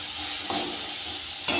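Potato and pointed gourd sizzle in a hot pan while a spoon stirs them, giving two distinct scraping strokes over a continuous frying hiss.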